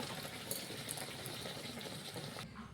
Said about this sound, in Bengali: কড়াতে আমরা কচুরিগুলো দিয়ে দিলাম, এক এক করে ভেজে নেব।